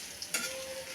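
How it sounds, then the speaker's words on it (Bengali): Onions frying in oil in a wok for a prawn and jackfruit-seed vegetable chorchori, a soft continuous sizzle with one short scrape or clatter from stirring partway through. "কড়াইতে তেল দিয়ে পেঁয়াজ দিয়ে দিলাম, পেঁয়াজ ভেজে নিচ্ছি।"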